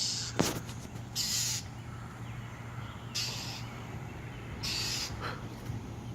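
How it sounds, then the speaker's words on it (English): Bird calls ring out in sharp, repeated bursts, several loud cries spread across a steady background hum, heard outdoors while a cat is attacked by the bird; no speech. "Blink, do you not care about the bird that is attacking you?"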